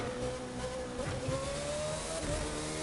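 Race car engine from The Crew 2 during a rival event, droning steadily with a rising pitch as it accelerates, close and continuous with no talking.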